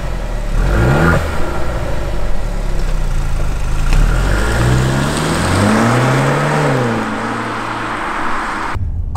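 A stock Mercedes-Benz C200 engine revs up and down repeatedly. Its pitch rises and falls in smooth sweeps over a steady low rumble, loud and close with no voices, before cutting off abruptly at the end.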